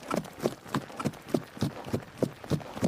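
Horses gallop fast, their hooves making a regular clip-clop of about ten evenly spaced beats, fairly close and clear against a quiet background.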